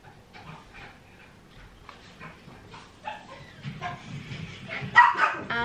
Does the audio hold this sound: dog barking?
yes